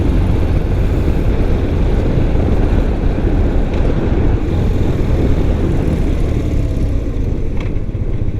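A red 1993 BMW R100GS is ridden hard over potholed Los Angeles streets, its loud steady engine drone heavily buffeted by wind noise, with no talking.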